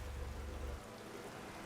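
Steady rain hissing in a GRID Legends open-wheel race in rainy, snowy, sleety weather, a soft even wash of noise with a heavier low rumble in the first part that drops away.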